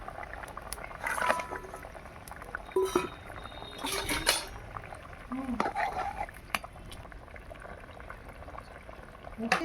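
Fish curry broth with potatoes bubbles steadily at a low simmer, with occasional clinks of utensils against a pot breaking through the soft boiling.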